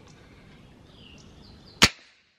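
A single sharp, loud shot from a Hatsan Mod 130S Vortex QE .30 caliber air rifle cracks out after a quiet stretch, decaying quickly into silence.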